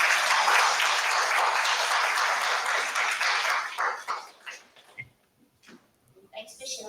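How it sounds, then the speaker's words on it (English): Audience applause for presenters at a foundation event on PrEP delivery, a dense, steady wash of clapping that thins out after about four seconds into scattered claps and quiet room noise, with brief talk near the end. "So really a big round of applause to our wonderful presenters"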